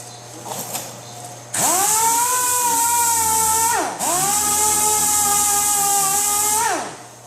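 Sanding body filler with 80 grit paper on a 2005 Honda S2000 steel body panel: a power sander whines loudly in two long runs, revving up, dipping briefly in between, then winding down at the end.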